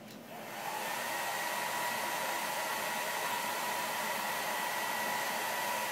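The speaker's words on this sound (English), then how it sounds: "I'm going to use my blow dryer on low." A blow dryer running on low heat, a steady broadband whoosh that ramps up within the first second and then holds constant and close, with no voices.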